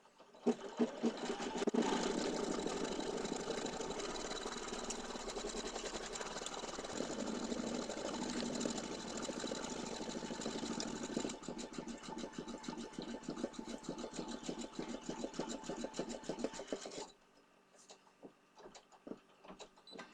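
A sewing machine stitches with orange thread in a steady rapid mechanical whir and tick that runs for about seventeen seconds, then stops, leaving quieter handling noises.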